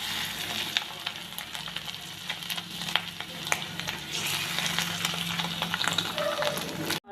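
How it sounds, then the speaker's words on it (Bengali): Batter-coated fish roe fritters fry in hot oil in a wok, a steady close sizzle broken by sharp crackles and occasional clinks, with no talk. "এবার ডিমগুলো অল্প অল্প করে ভেজে নেব।"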